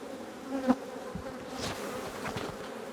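Honey bees hum in a steady, close swarm around hives while a beekeeper works, with no voices.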